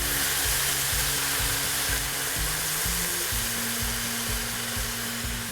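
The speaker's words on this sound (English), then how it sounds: "Now I'll deglaze with red wine." Pork ragu hissing in a hot pan as red wine goes in to deglaze it, a steady loud sizzle with a low rhythmic hum underneath, no voices.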